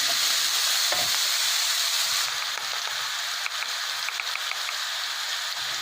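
Chopped onions frying in melted butter and oil for pav bhaji, a steady close sizzle with a few light stirring taps and small pops.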